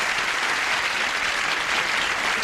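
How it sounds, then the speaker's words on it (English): Studio audience applause greeting contestants on the 1981 game show Match Game, a continuous even wash of clapping throughout with no break. "Applause, applause."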